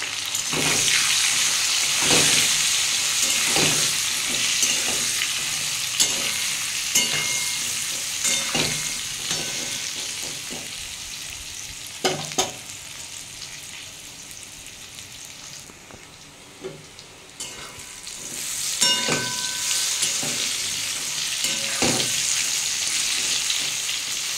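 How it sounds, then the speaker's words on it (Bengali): Steady crackling sizzle of pointed gourd and potato frying in oil, with occasional louder pops and spatters as pieces are stirred in the pan. "আমার পটলটা অনেকটাই ভাজা হয়ে গেছে, আমি আর একটু ভাজবো।"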